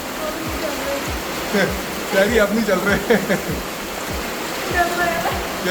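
Monsoon water rushes through a narrow rock cave passage at Robbers Cave near Dehradun, a steady near roar with splashy bursts, while people talk over it.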